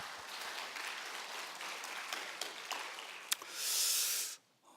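An audience claps for the grandmothers at a Korean church family service, steady applause rising to a louder swell near the end before it stops abruptly.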